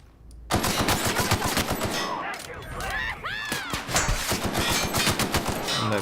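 Automatic gunfire in The Outer Worlds video game, a loud, dense rapid-fire burst after a brief quiet start, with ringing metallic ricochet-like tones mid-clip and a voice talking faintly underneath.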